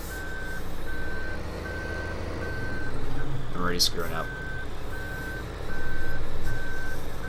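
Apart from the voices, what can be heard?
reversing beeps of a vehicle backing up, Farming Simulator 2015 video game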